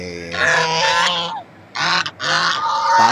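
Loud, close geese honking in overlapping bursts, a brief pause, then more raucous honks.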